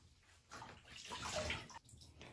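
Water splashes and runs while a Cavapoo puppy is bathed, a soft, close sloshing and trickling that swells and fades over a couple of seconds.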